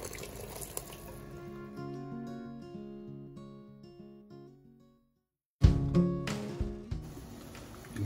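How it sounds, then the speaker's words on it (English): Hot broth is poured over chicken noodle soup with dumplings and bok choy. A sudden close splashing pour follows a stretch of tuneful music and trails off into liquid sloshing, with no voices. "So I'm just going to put some hot broth on this, and then ready to eat."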